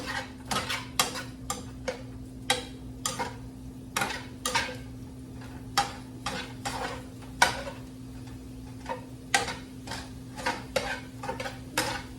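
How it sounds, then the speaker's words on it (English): A utensil stirring shrimp in a pan over low heat, producing sharp irregular scraping clicks against the metal, fairly close, under a steady low hum, with no talk. "We're actually going to give it a stir."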